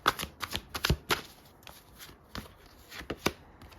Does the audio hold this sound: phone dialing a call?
no